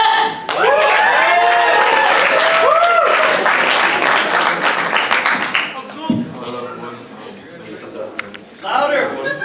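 An audience at a benefit concert at UCI applauds a spoken word performer, with loud, sustained clapping and crowd noise throughout. A voice speaks over the start and end.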